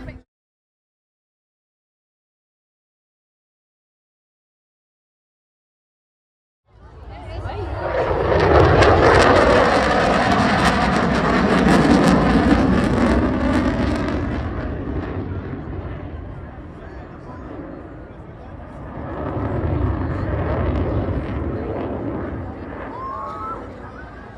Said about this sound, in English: He wants to see the typhoon.